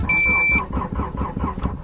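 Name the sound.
Honda Prelude engine cranking, struggling to start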